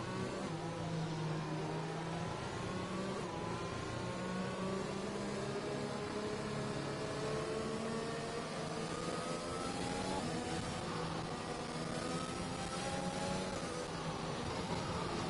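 Formula 1 cars in the F1 2021 racing game run a safety car lap at the Mexico Grand Prix, a steady, continuous engine drone with shifting pitch and layered whine heard throughout, without talk.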